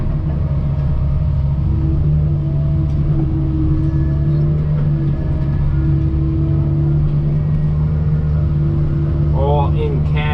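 A Kobelco SK160-6E excavator digs and cleans up the tapers of a swimming pool hole on a homestead, heard from inside the cab as a loud, steady diesel drone with a low hum and occasional whirring hydraulic shifts.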